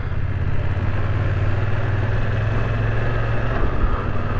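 Running BMW F900 XR, its 900cc inline twin engine a steady, loud, low throb close by with constant revs and no talk.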